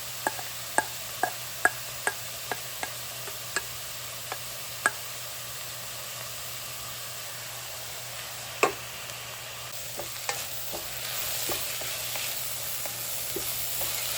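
Washed lentils sautéing with onions in a pot for Indian dal soup: a steady low sizzle runs throughout, punctuated early by a series of sharp spoon taps and scrapes against the pot, then quieter stirring.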